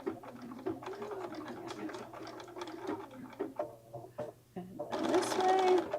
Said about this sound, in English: And foot down. All right, and then we're going to back stitch.